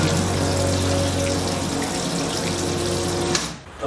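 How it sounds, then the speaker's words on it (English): Water running from a tap to fill containers during a water shortage, a loud steady rushing gush close by that continues without a break before cutting off abruptly near the end. "We're filling these containers with water because of the water shortage thing."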